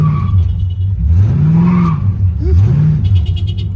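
A Chevrolet Malibu coupe with a bored .30-over 5.7 LS1 V8 swap and positraction, running a burnout: loud, close engine revs sweeping up and down with tire squeal, and people talking nearby.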